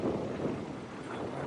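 Gusty wind buffets the microphone beside the river in Florence, a continuous low rumbling roar with no clear voices.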